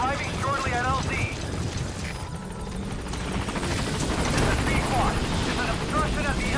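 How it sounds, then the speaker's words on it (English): In Metal Gear Solid V, a support helicopter arrives with a steady rotor roar and whine that fills the scene, overlaid by brief radio voice chatter and beeping game sounds. "Support helicopter requested."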